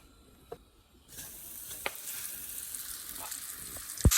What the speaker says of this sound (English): I'm searing the beef in olive oil.